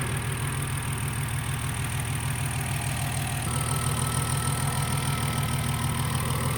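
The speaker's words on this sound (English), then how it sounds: "that ticking noise you hear in the video is the fuel injectors." A BMW E46 fitted with an M56 valve cover idles on E85 fuel, its engine humming steadily while the fuel injectors tick rapidly and loudly throughout, with no talking.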